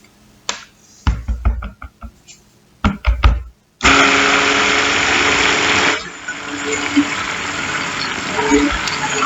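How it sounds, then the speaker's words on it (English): Stick blender mixing lye solution and oils for cold process soap, running as a loud steady whir for several seconds and then settling to a quieter continuous hum, after a few clanks and knocks of utensils against the container. "I'm going to stick blend till just past emulsion"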